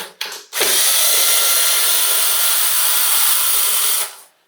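A power drill fitted with a screwdriver bit backs screws out of an old boombox. After a couple of short starts, it whines steadily and loudly at close range for about three seconds, then spins down.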